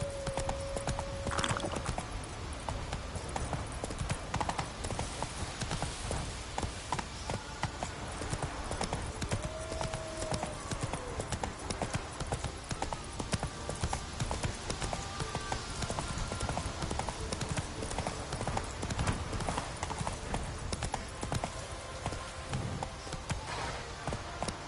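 Roach the horse trotting in The Witcher 3, hooves clip-clopping in a steady rhythm under game music and ambience, with an occasional whinny.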